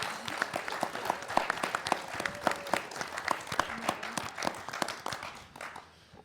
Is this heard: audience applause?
yes